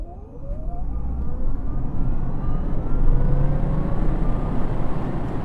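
A Datsun 240Z restomod converted to electric power accelerates hard, its rising motor whine sweeping upward in pitch over steady road and tyre roar, loud and close throughout.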